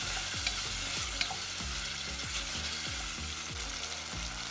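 Chopped tomatoes frying in a pan for mung bean curry, with a dense steady sizzle and a regular series of thudding stir strokes roughly every half second, close and with no talking.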